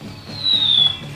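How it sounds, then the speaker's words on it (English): A thin, high-pitched whistle from a handheld soundboard's bomb-drop effect glides slowly downward in pitch for about half a second, then cuts off with no explosion. "Here's the sound of a bomb dropping."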